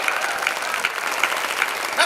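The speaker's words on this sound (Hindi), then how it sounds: "बात ठीक हो तो तालियां बजाओ।" Audience applause at a Hindi kavi sammelan comedy poetry gathering, a steady dense burst of clapping from a crowd filling the whole short stretch at even loudness.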